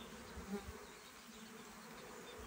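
Honeybees hum at an open hive box during a first spring inspection, a faint, continuous buzzing drone with a couple of brief louder passes close by, no talk.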